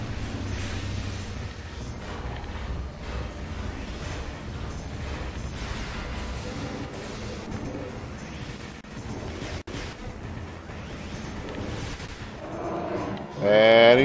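Sustained gunfire and explosions in the video game Metroid Prime 2 Echoes, a dense, continuous barrage of blasts with a louder burst at the end.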